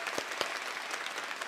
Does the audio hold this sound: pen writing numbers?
no